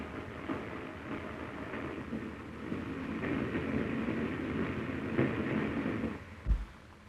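An LMS steam express runs at speed through open northern English country, a continuous low rumble and rattle of carriages rolling along the line, steady and moderately distant with a faint thump near the end.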